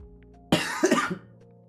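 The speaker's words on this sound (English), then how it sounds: "The coughing's sort of on and off" A single harsh cough burst from a person recovering from COVID, loud and close in an otherwise quiet room, trailing off into a short rasp.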